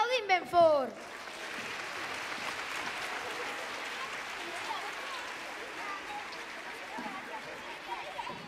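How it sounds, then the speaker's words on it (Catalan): Audience applause at a school Christmas show, starting right after a brief spoken announcement and then holding as steady, dense clapping for several seconds at moderate distance. "Aplaudim ben fort!"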